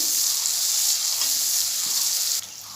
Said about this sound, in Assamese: এতিয়া সকলোখিনি মিশ্ৰণ ভালদৰে ভাজি ল'ব।